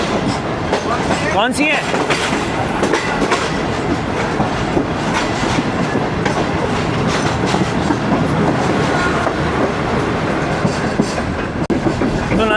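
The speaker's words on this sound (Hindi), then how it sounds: "अब आपको इधर से दिखाता हूँ कि कौन सी ट्रेन जा रही है।" A train rolls through a railway yard in Karachi with steady clickety-clack of wheels over rail joints, loud and close throughout, while someone briefly speaks over the rumble.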